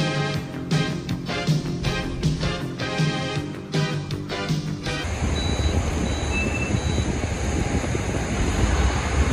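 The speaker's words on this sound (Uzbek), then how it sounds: "Samolyot shoshyapti, uchib ketish kerak." Repeated beeping gives way to a loud, steady jet engine roar of an airplane preparing to take off, with high whining tones on top.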